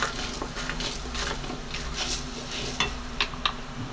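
Urad dal fries in sesame oil with a continuous close crackle and sizzle, joined by occasional clinks and scrapes of a spoon against the pan.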